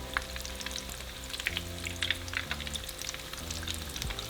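Crunchy shredded beef tacos dorados frying in oil, a steady bubbling sizzle with scattered crisp pops over a low background hum, fairly close and continuous.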